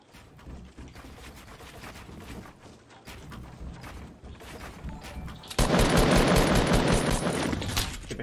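Rapid gunfire from Fortnite Battle Royale, shooting at the player: dense bursts of shots that turn much louder and more intense in the second half, with no talk.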